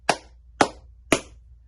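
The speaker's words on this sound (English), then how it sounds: "clapping" Three sharp hand claps spaced about half a second apart, crisp and close, picked up by a wired lapel microphone with no talking.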